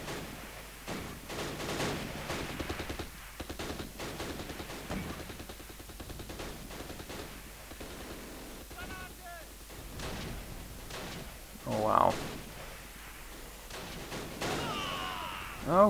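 Mortar fire in the Close Combat: The Longest Day wargame, during a tree line defense at Troarn, comes as repeated sharp blasts and dull thuds at uneven intervals, with a person talking over the battle.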